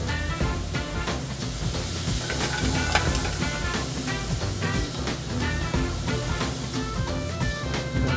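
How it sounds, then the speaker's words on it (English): A pan holding spinach is deglazed with white wine for a seafood and spring vegetable bouillabaisse, giving a steady, loud, close sizzle with a crackling hiss that carries on unbroken. "We're going to deglaze"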